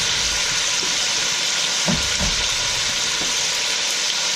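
Lamb pieces fry with bay leaf, cinnamon and cardamom for biryani, giving a steady broad sizzle with a few soft stirring thumps near the middle, close and continuous.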